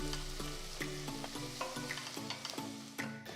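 Sliced onions and pieces of large green chilli sizzle steadily in a pan, with a continuous close crackle and regular clinks of a spoon stirring, no voices.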